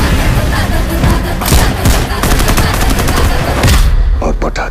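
Rapid bursts of firecrackers crackle and pop in dense, loud volleys, sharp reports overlapping continuously with a brief lull near the end.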